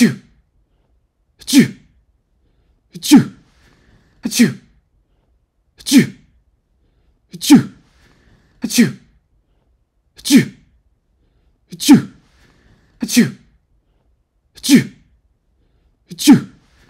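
Repeated human sneezes, about a dozen in steady succession roughly every one and a half seconds, each a sharp loud burst with silence between, no talking.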